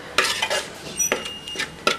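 A spoon stirs prawn roast gravy in a pan, making several scraping, clinking strokes against the metal in an uneven rhythm, close up, with a faint sizzle underneath and no talking.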